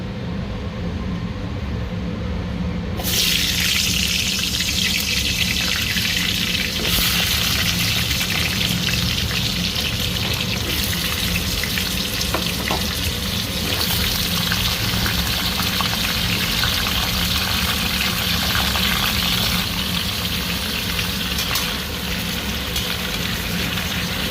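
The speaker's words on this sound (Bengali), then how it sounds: "সবজি কটা ভেজে নেব। কুমড়ো, দুটো বেগুন আর আলু, আর কিছু দিয়ে নাই। তেল দিয়ে দিয়েছি, তেলটা গরম হোক।" Pumpkin, eggplant and potato frying in hot oil, a steady sizzle and crackle that swells loudly after a quieter start and carries on without a break.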